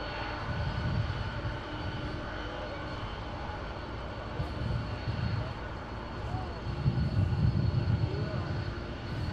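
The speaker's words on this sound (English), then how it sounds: "Lufthansa, Airbus 340. They came from Munich to Miami." Lufthansa Airbus A340 airliner at Miami airport, a steady broad jet engine roar holding throughout with slight swells in loudness, heard from a distance with no talk over it.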